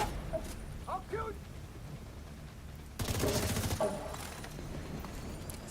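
Rapid gunfire bursts in a first-person shooter video game, clustering loudest in a dense volley around the middle, with scattered shots and game sounds before and after, under a busy mix.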